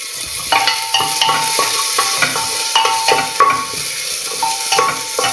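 Chopped onion frying in a pan sizzles throughout while a utensil scrapes and clinks against the metal in a stirring rhythm. The sounds are close and fairly loud, with no talking.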